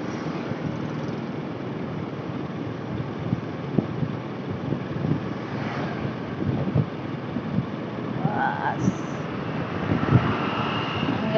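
Strong late-afternoon wind on the coast at Pangandaran beach, a constant loud rumbling roar buffeting the microphone, with faint tones from passing vehicles or engines in the background.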